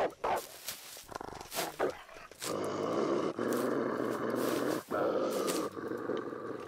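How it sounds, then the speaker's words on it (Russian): A dog growls in the survival video game The Long Dark: a few short grunting bursts, then a loud, close, rough growl that holds for several seconds with brief breaks. "Не рычи, собака."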